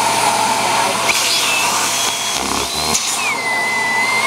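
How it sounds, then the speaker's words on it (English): A standard vacuum cleaner vacuum-seals storage bags, running steadily with a high whine, its pitch shifting as the suction changes, continuous and close. "We're gonna vacuum these up in that those vacuum bags with just a standard issue vacuum"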